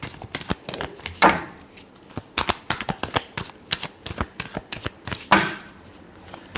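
Tarot cards being shuffled by hand in a series of quick, crisp riffles and flicks, close and fairly soft, with two louder bursts of rapid riffling.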